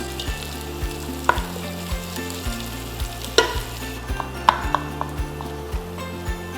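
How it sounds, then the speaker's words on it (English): Chopped onions sauté in melted lard for sauerkraut soup, giving a steady close sizzle with soft stirring scrapes and a few sharper utensil clinks against the pan. "let's add chopped onions. And we're gonna saute them until they become translucent"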